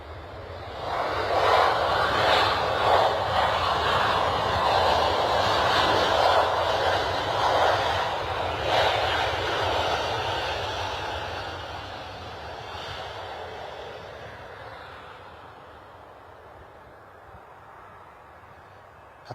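A Boeing 737 MAX 8-200 airliner inbound from Warsaw passes at London Stansted airport with a loud, broad jet engine roar that swells, holds, then slowly fades into the distance.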